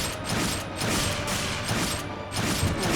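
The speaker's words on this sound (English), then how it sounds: "Oh, he blows him up with his arm cannon." An arm cannon blast in the video game Final Fantasy 14 sounds as a dense, crashing burst of noise that swells and fades in rolling waves for a few seconds, with no voices.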